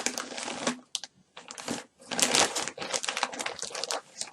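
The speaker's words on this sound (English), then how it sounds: "Sorry about the plastic noise." Plastic packaging around yarn skeins crinkling and rustling in bursts of crisp crackles, handled close by with brief pauses in between, no voices over it.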